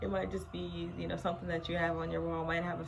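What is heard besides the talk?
No everyday noise stands out behind the speech.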